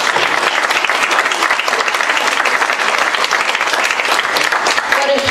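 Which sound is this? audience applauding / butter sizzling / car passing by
audience applauding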